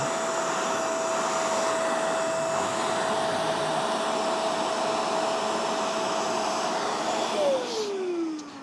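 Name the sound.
MOOSOO cordless wet dry shop vacuum running on high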